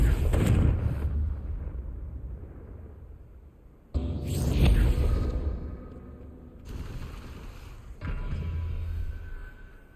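Loud booming blasts of the Confringo fire spell in the Hogwarts Legacy video game, three heavy bursts about four seconds apart, each rumbling and fading away.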